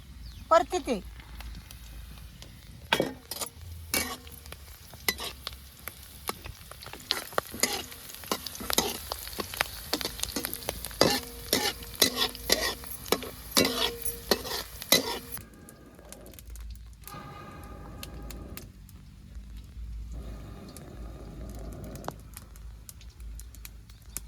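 Curry leaves hit hot oil in a pan for a Maharashtrian baingan bharta, crackling and spattering in dense bursts, then the frying settles into a softer, steadier sizzle, with stirring noises close by.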